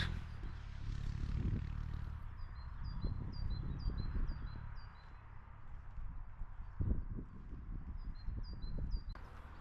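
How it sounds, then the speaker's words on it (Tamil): Faint, quick bird chirps repeat in short bursts high above a constant low rumble and some soft clopping noises, at Neuschwanstein Castle in Germany. "இந்த பறவைங்க சத்தம் அவ்வளோ,"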